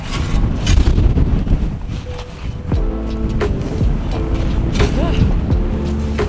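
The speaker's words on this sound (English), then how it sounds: "I don't know if you can hear me with all this wind" Strong, gusty wind roars continuously across a snowy hillside during winter camping, buffeting the microphone loudly, with brief faint voice-like tones partway through.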